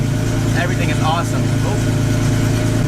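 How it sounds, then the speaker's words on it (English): A rebuilt, cammed Infiniti G35 engine idles steadily after its first start, a continuous low rumble with a slightly lopey rhythm running under close, excited talking throughout. "Listen to that idle, dude."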